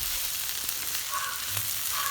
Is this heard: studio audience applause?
no